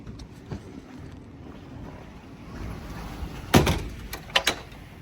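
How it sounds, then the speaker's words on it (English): A door thrown open by a strong gust during a tornado warning, a sudden loud bang and rattle standing out over steady wind rush, followed by a couple of sharper knocks. "Did you see that the door blew open?"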